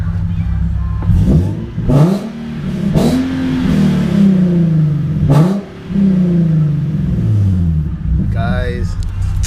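Car engine with a newly fitted ISR exhaust revved repeatedly, several rising and falling blips with pops between them, loud and close, with voices talking over parts of it.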